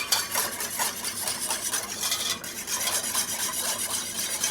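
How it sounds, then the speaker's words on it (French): A whisk scrapes steadily in a bowl, dissolving yeast into 25-degree water for French tradition bread dough, a continuous close rasping and stirring texture with no voices. "J'intègre ma levure dans l'eau et je viens bien la diluer"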